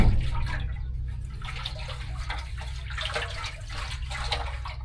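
Water sloshing and rushing inside a waterlogged well pressure tank with a blown bladder, a steady close churning wash over a low rumble throughout.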